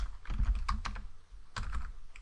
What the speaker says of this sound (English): if I go to my browser and just type